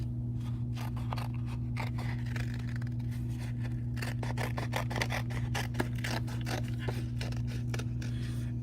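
Scissors snip through tissue paper while cutting out a large square for a sky lantern's burn box, a quick run of crisp, close cuts over a steady low hum.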